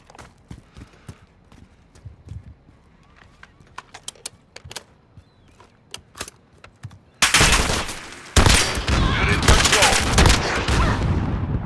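Rytec AMR anti-materiel rifle fire in Call of Duty Modern Warfare: after several sparse, faint sharp cracks, the rifle opens up with a loud, dense burst of heavy shots that keeps going until the end.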